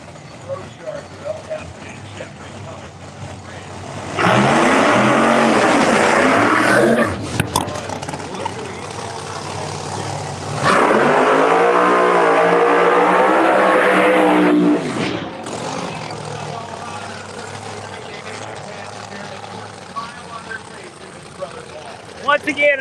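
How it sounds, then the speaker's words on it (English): Drag racing cars doing burnouts at a Pro Extreme qualifying event, two long roaring bursts of engine and tire noise, loud and close, separated by quieter track ambience with a public-address announcer talking throughout. "the track access to get out of the way while they're burning out"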